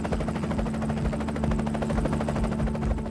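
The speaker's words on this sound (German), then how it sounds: "In einer mondlosen Nacht fliegen US-Hubschrauber über die Grenze von Afghanistan nach Pakistan." US military helicopters fly at night with a steady rhythmic rotor thump and a droning engine hum that holds constant and fairly loud throughout.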